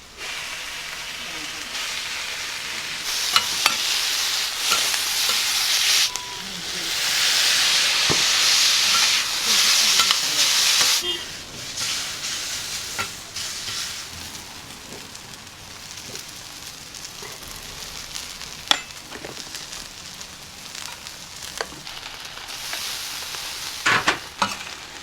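Okonomiyaki frying on a hot griddle in a small eatery, a steady sizzle and hiss with louder steamy bursts and occasional scraping clicks, while people talk quietly nearby.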